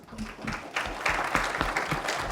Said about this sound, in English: So please applause to the good speakers.